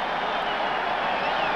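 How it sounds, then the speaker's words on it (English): A football stadium crowd at a 1988 college game gives steady, scattered applause, a dense wash of clapping that holds at an even level through the moment with no talk over it. "Scattered applause from the crowd here"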